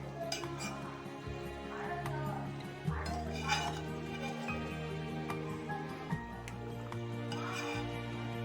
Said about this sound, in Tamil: இந்த அளவுக்கு கொதிச்ச உடனே நான் ஒரு கிளறி விட்டுடலாம்.